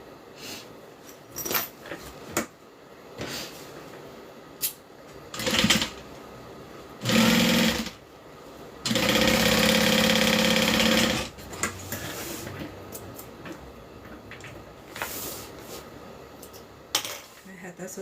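A sewing machine stitches a bag shut in short stop-start runs, with a longer sustained burst midway, close and loud, mixed with clinks and handling knocks between stitches.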